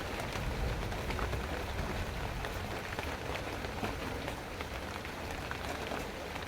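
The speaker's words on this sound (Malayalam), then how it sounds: "മഴ ഇങ്ങനെ ചെറുതായിട്ട് പെയ്യണതൊക്കെ" Soft, even patter of light rain falling on a surface, steady throughout with no talking.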